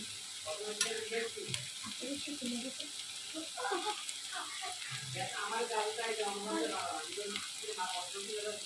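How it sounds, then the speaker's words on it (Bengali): Chicken and capsicum stirred in a hot frying pan for a chicken cashew nut dish: a steady sizzle runs throughout, with scraping stir strokes on top and occasional faint voice sounds. "এখন এটাকে আবার একটু ভালোভাবে নাড়াচাড়া করে মিশি"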